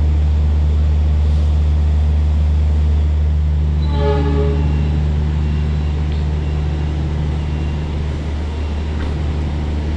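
A loud, close passenger train, the Taksaka, departs and rumbles steadily along the tracks, with a brief horn-like tone sounding partway through.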